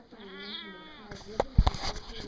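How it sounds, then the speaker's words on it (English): A cat meows with a long, wavering cry at close range, followed by shorter sharp sounds, while a person talks over the final part. "She's quite the fucking cat."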